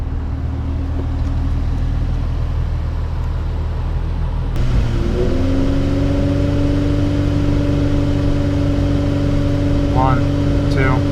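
An Infiniti G35 / Nissan 350Z engine idles, then revs up and holds steady around 3,000 RPM during a radiator coolant flush, a loud continuous drone with someone talking over it.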